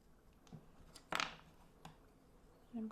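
Sculpting clay coil being cut with scissors: one brief close snip in a quiet room, with a few faint soft handling clicks and a low murmur near the end.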